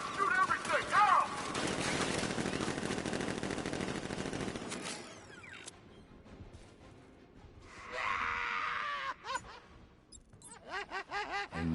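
Bursts of gunfire from guards opening up in Batman Arkham Knight, dense rapid shots for several seconds that then thin out into scattered cracks amid game noise, with a voice groaning.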